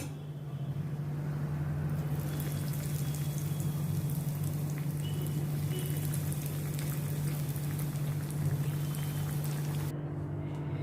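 Corn and potato bites frying in hot oil, a steady soft sizzle and crackle over a low hum, continuous and fairly quiet.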